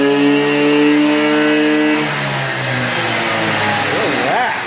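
A 50cc Blue Dino small engine running on choke, its buzzing tone sliding up and down as it revs, loud and close with no talk.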